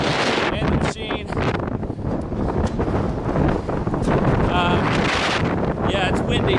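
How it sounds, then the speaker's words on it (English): Strong wind buffets the microphone in loud, rumbling gusts near Clingmans Dome in the Smoky Mountains on the Appalachian Trail, with a voice speaking briefly beneath the roar. "Yeah, it's windy."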